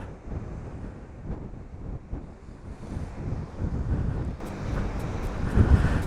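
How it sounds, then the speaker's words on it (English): Steady wind buffeting the microphone while riding a Honda Africa Twin motorcycle on a breezy day, a broad low rumbling roar that swells and gusts louder toward the end, with no voices. "It's a bit windy today, and from midday it starts to pick up a little bit of wind."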